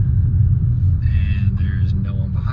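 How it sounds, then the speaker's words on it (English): Audi RS6 Avant exhaust in manual shift mode, a loud close deep rumbling burble from the engine with some crackling pops over the low drone. "when you kick it over into the manual gear shift mode, you get way more burbles out of the exhaust too"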